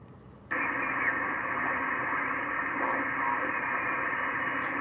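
A portable amateur radio in a mobile setup on a parking deck jumps from low hiss into a steady, loud wash of static and noise as it is tuned, holding constant with faint blips and no clear voices.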